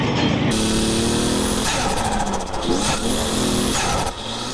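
Nissan S13 240SX driving on a skid pad, its engine droning loudly and steadily throughout with shifting revs and tonal whine, no talk over it.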